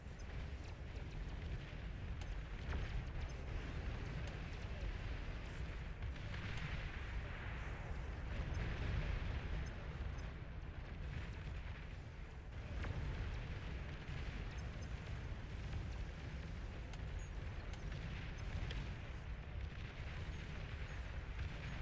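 Commander unit exploding in the real-time strategy game Beyond All Reason amid ongoing battle, a long rumbling wash of blasts and booms with bursts swelling around the middle, dense and continuous throughout.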